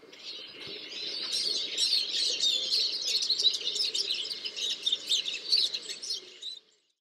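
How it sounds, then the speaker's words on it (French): Eurasian siskin song in a garden setting: a continuous, busy stream of twittering, trilling chirps and wheezy notes, fairly close and steady for several seconds before cutting off, with faint background calls beneath. "le tarin des Aulnes"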